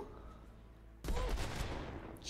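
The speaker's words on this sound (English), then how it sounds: "Not the dubstep gun, dude." In the Worms WMD video game, the dubstep gun fires: after a quiet second, a sudden burst of loud, dense, pulsing electronic blasts starts abruptly and keeps going to the end.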